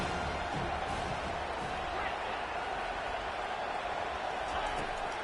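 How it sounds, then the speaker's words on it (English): A stadium crowd in College Football 25 roars steadily as a broad, continuous wash of cheering, with a commentator talking over it. "this crowd coming to life here, trying to help the defense get a stop with the offensive pin back"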